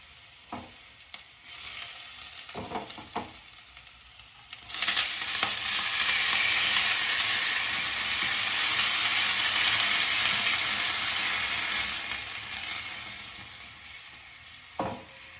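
A few clinks and taps, then a loud burst of hot oil sizzling as garlic and fenugreek seeds fry, slowly dying down before another clink at the end.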